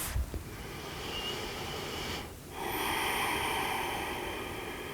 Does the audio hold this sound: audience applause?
no